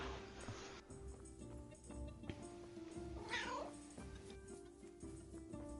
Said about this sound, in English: God, that was a loud meow